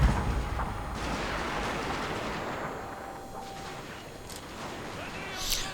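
Gun towers in the Total War: Shogun 2 game keep up rapid, machine-gun-like fire, a dense rumbling volley of battle noise that holds steady throughout.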